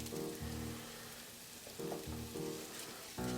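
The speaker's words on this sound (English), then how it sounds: "So we'll get the garlic going, and we will get the onion going." Garlic and onion fry in a pan for a breakfast quesadilla, a soft steady sizzle and crackle under intermittent low humming tones, fairly quiet, with no speech.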